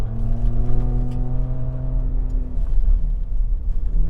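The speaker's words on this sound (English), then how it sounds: "it really holds up revs way higher in off-road mode" A 2024 Ford Ranger Raptor pickup engine holds high revs in off-road mode with a droning whine and rumble, pitch sustained then dropping slightly, close and loud.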